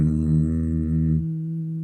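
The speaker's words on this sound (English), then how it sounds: "teeth are parted, and the humming sounds like this." A steady, buzzing hum from a human voice with lips closed and teeth parted, bee breath exhale, held low and even, then softening and dropping slightly near the end.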